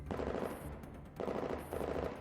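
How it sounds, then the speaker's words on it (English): A rifle unleashes rapid bursts of automatic fire in a barrage, two or three loud, dense volleys separated by brief pauses, with no talk. "She raises her rifle and unleashes a barrage on the nimble figure that flits past her"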